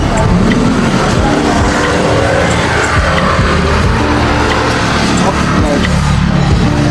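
Riding in a moving car: loud, constant engine and road roar with tire noise that stays steady throughout, close to the microphone.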